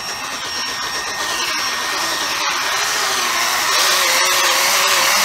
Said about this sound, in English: And this buffer is variable speed.